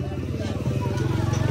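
A motorcycle passes close by during a village feeding outreach, its steady, throbbing low engine drone running loud throughout while people talk over it.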